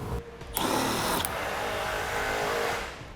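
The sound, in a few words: power drill removing a 10mm screw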